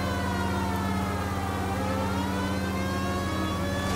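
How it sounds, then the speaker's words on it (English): A continuous wailing police siren in the game L.A. Noire, loud and steady, with a smooth rising and falling tone and an echoing quality inside a tunnel; no talking. "I like how the siren echoed there in the tunnel"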